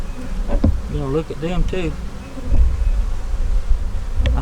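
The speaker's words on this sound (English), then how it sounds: "I think the bees are there at the bottom. They're coming on up." Honey bees at a hive buzz loudly and close, a dense continuous drone under a short stretch of speech.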